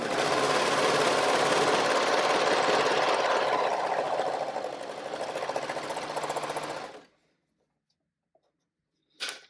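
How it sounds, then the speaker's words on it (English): Serger sewing machine serging the bottom edges of fabric pieces for a caddy bag, running loud and continuous at close range for about seven seconds before stopping, followed by a brief click. "just go ahead and serge the bottoms of your pieces"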